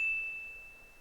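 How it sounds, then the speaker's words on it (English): A single clear notification bell ding rings out sharply and fades over about a second, alone against near silence. "ring the notification bell"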